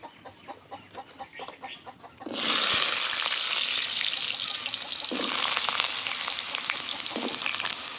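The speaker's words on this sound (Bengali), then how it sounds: "এবার সর্ষের তেল দিয়ে দেবো সমস্ত সবজিগুলো আমি ভেজে নেব এক এক করে প্রথমেই আলু ভেজে নেব" Potatoes frying in mustard oil in a hot wok hiss loudly after a sudden start, following a few soft clucks, with a steady close sizzle that holds to the end and no talk.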